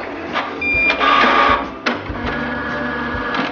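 A Canon MX495 inkjet printer prints up close, with mechanical whirring, rhythmic clicks and the shuttling of the print head in short bursts.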